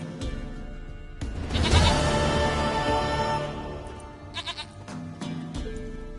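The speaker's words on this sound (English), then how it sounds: "Goat of mine, dearest, sweetest goat." A goat bleats in The Witcher 3 video game, one loud wavering bleat up close followed by a few shorter fainter ones against a background of ambient game sound.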